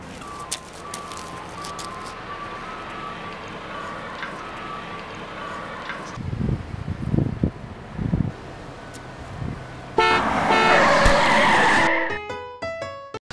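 A car screeches in a long tire squeal, then several heavy low thumps sound from an impact, close and loud. A bright, noisy crash follows before a chiming tail.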